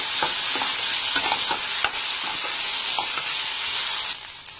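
About a tablespoon of ginger garlic paste fries in a pan with a loud, close, hissing sizzle and light stirring taps, and the sizzle drops in level near the end.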